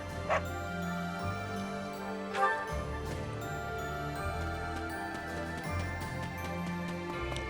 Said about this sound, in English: Why are you barking at this grave?